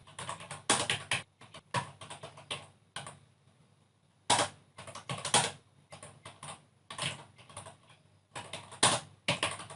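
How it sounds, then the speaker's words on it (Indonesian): Commands are typed on a computer keyboard while setting up Kali Linux 2020 persistence on a USB flash drive, in bursts of rapid close keystrokes separated by brief pauses, with no talking. "Setelah itu kita ketikkan komen seperti ini."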